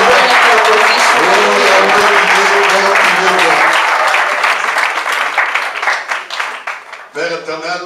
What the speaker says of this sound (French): Μπορούμε να χειροκροτήσουμε.